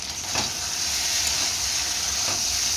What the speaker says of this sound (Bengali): টমেটো এইসব দিয়েছি, দিয়ে ভালো করে কষানো হচ্ছে চিকেনটা।